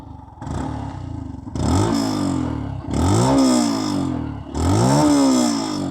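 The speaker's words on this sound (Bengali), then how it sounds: "আমি যদি এক্সস্টের নোটটা আপনাদের একটু শোনাই" A Yamaha FZS Hybrid motorcycle idles briefly, then its exhaust roars through three sharp rising revs in quick succession, each swelling and falling back, loud and close with a chunky note.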